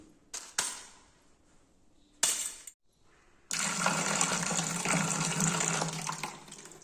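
A few splashes, then a steady rush of water as tomatoes are washed for a home-cooked dal rasam; close and fairly loud, with no talking.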